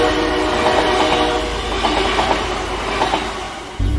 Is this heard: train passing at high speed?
yes